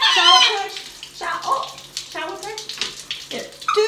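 Water sprays steadily from a shower head as pet parrots are bathed, a continuous hiss under someone talking and the birds squawking.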